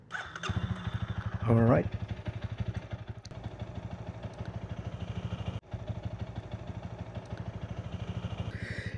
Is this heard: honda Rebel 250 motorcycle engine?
yes